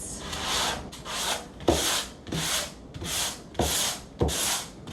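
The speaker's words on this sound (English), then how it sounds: "So just do a light sand, especially with only 1 layer of primer on that we put on the cabinets here" Primed kitchen cabinets get a light hand sanding with a single coat of primer on, heard as close, rhythmic rasping strokes, about eight back-and-forth passes with brief pauses between them, loud and steady with no talk.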